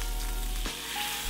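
About a quarter tablespoon of butter melts in a hot pan, giving a close, steady hiss with a short burst of crackle partway through.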